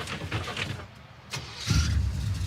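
A junkyard Chevy Tri-5 engine cranks over and struggles to catch, a rough churning drone that swells louder near the end, without settling into a clean idle.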